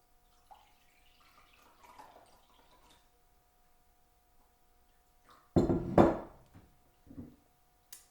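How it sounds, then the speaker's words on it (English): A cup of water is poured into a slime mixture in one short, splashy burst after a long near-silent stretch, followed by a brief smaller trickle, close by with no talking. "use this and add another cup of water"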